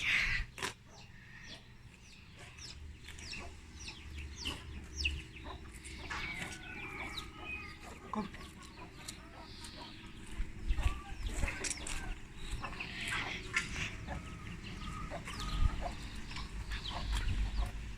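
Chickens cluck steadily nearby, with thin peeping calls of chicks scattered throughout over a low background hum.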